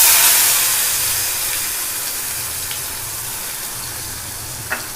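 Tomatoes sizzle in a pan of hot oil over a low gas flame while cooking a drumstick curry, a steady close hiss that eases slightly over time, with a few faint clinks.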